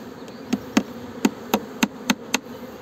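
Nails are hammered into a wooden beehive frame at an apiary, about eight sharp, evenly spaced taps over a faint background hum.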